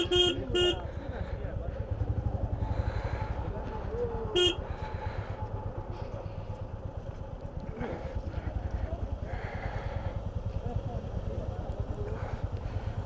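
Traffic jam at Khardung La pass, Ladakh, with vehicle horns honking in short toots near the start and around four seconds over a steady engine rumble, with voices talking throughout.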